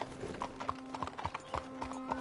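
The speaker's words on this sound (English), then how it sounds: "You got a horse?" Horse hooves clip-clop at a steady walking pace, each a crisp nearby knock in regular rhythm, over a faint steady hum.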